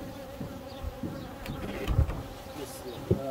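Honeybees swarming around a natural free-built hive, a dense close buzzing drone with individual bees passing near, steady and loud throughout.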